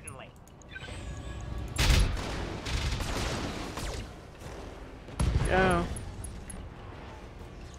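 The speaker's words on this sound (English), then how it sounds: "Ammo explosion. A critical hit." Ammo explosion in the BattleTech video game, heard as two loud booming blasts with crackling debris, one early and a stronger one later, mixed with game effects and a brief spoken word.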